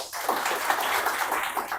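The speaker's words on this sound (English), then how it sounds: "Standing applause for mother teachers." Teachers get a standing ovation at a school event at Little Flower Convent Public School. The continuous crowd clapping is fairly soft and distant and holds steady without voices on top.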